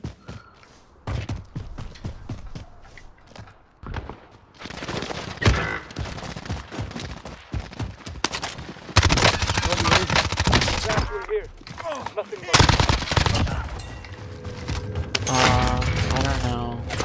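Video game gunfire during a wipe sounds in bursts of rapid shots and thuds with overlapping voices, growing louder and denser toward the end.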